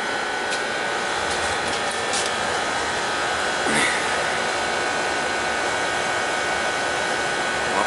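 A flood-damaged gas furnace, submerged under four feet of water, starts up and runs with a steady, close blowing whoosh and a brief rise partway through, with no speech.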